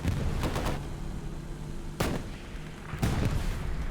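Rockets and shell blasts boom through a Hell Let Loose battle on the Tobruk map in a competitive match, with sharp explosive bangs recurring in a loose rhythm over a rumbling battlefield background.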